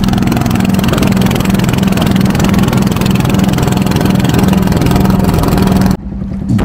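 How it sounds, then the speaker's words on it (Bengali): Engine of a motorized fishing boat on a river runs loud and steady with a constant rhythmic chug for several seconds, then cuts off abruptly near the end. "আর এটাই মাছ মারার নৌকা।"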